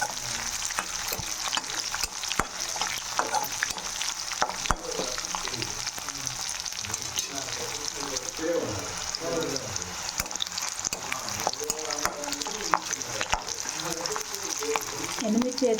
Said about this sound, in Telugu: ఇప్పుడు ఎండుమిర్చి వేసుకున్నామండి.